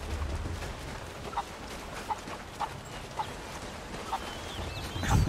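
Chickens clucking in the video game Rise of the Tomb Raider, a string of six or so faint, evenly spaced clucks over quiet ambience, ending with a brief louder rustle.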